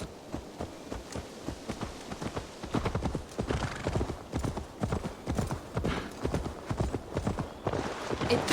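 Horse hooves clip-clop in a steady walking rhythm in the video game Assassin's Creed Valhalla, growing a little louder as they go, with no talking over them.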